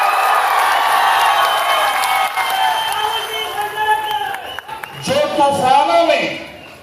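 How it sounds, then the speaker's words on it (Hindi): A rally crowd greets Rahul Gandhi on the Andaman and Nicobar Islands with loud sustained cheering and applause. The roar fades partway, and an amplified voice then speaks over the remaining crowd noise. "आदरणीय राहुल गांधी, जोरदार तालियों से स्वागत होना चाहिए"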